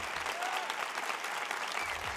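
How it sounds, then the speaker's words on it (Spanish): Audience at the Mexicana Universal 2018 televised beauty pageant gala applauding, a dense, steady burst of clapping from a large crowd in a hall, even in level for the whole stretch. "vamos a darle un gran aplauso"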